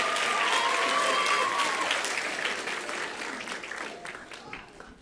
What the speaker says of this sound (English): Let's give the other contestants one more round of applause.